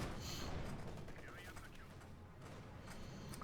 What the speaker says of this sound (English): Heavy mortar there being hammered by all of FIndeed's forces in the sector